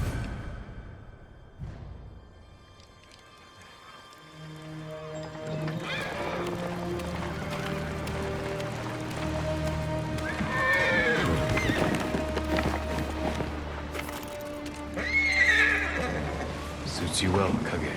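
A horse whinnies loudly near and hooves clip-clop in a steady rhythm in Ghost of Tsushima, with someone talking over the top in a game-like soundscape.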